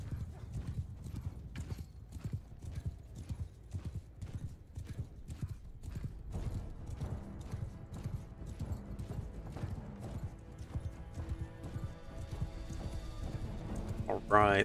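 A horse gallops in Mount and Blade Bannerlord, a steady, close rhythm of hoofbeats pounding throughout, with game music rising toward the end.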